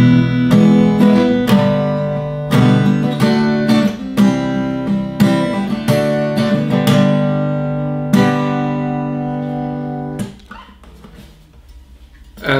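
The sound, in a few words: Schecter Omen Extreme electric guitar being played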